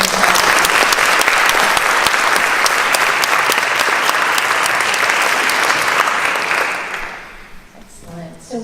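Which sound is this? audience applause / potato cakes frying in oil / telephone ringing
audience applause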